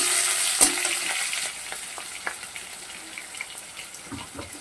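Small cut potato pieces fry in a pan with whole spices, giving a soft, steady sizzle with occasional clinks and stirring scrapes, faint and close.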